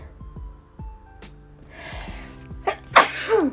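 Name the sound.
sneeze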